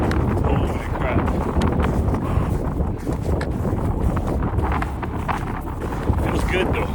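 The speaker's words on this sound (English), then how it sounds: "Windy." Strong gusty wind buffets the microphone on a spring backpacking trip in the snowy Rocky Mountains, a loud, continuous roar with rumbling bursts throughout, while people talk faintly beneath it.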